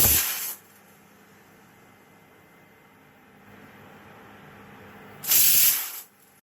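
A pressure cooker of kanji on a stove lets off loud bursts of hissing steam at the start and end, with a quieter, steady steam hiss running between them and no talking.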